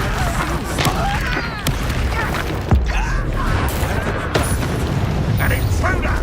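Confringo fire-spell blasts in Hogwarts Legacy combat, several sharp bursts and booms scattered among clanking game noise, with a voice shouting over the action throughout.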